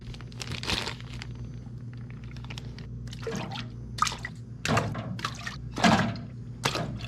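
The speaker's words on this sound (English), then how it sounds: "I got me an ultra freaking sonic cleaner" An ultrasonic cleaner runs with ATV parts from a Can-Am Outlander inside, giving a steady low hum under irregular liquid drips, splashes and crinkling bursts, close and moderately loud with no talk.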